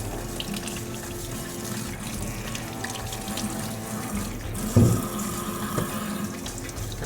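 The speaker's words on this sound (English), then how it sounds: "Turn that water down a little bit, I don't need that much." Steady running tap water splashes into a sink while freshly harvested garlic bulbs are rinsed clean, a continuous close hiss with a brief louder splash partway through.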